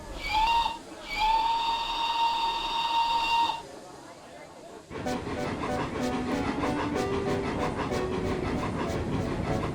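A steam engine whistle, Thomas the Tank Engine, sounds in two long shrill blasts, then gives way to chuffing and rhythmic rail clatter of a moving train.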